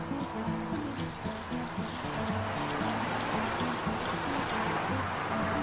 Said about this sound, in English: she's going to water her plants with it